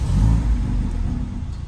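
A Mercedes-Benz GLA45 AMG fires up close by, its engine catching with a loud initial rev and then settling into a deep, steady rumbling idle.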